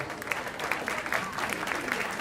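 Audience applause at a jazz concert performance series, a continuous mid-level patter of many hands clapping for a performer, steady and fairly close throughout.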